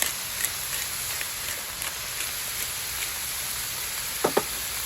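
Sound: shrimp being stir-fried in a pot with pepper

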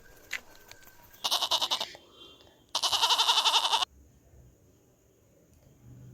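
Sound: goats bleating while fighting with horns, animation

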